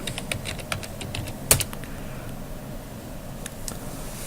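Quick bursts of key clicks on a computer keyboard, close and fairly clear, with one sharper keystroke standing out and short pauses between runs.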